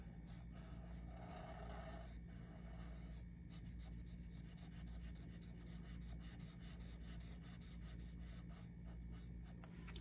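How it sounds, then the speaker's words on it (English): A chisel-tip marker rubs steadily across paper, colouring in a drawn face for a handmade card, giving a continuous soft scratchy rasp that runs close and unbroken under faint room hum. "I'm going to use the chisel end to color in the face"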